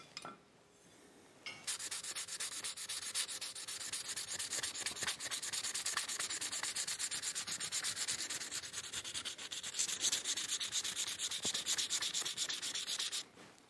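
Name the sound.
sanding a wooden trowel handle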